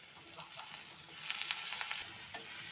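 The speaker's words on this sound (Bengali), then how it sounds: "দেখো মশলা কষানো হয়ে গেছে" Spice masala fries in a pan at low volume, faint sizzling with scattered light stirring clicks and scrapes.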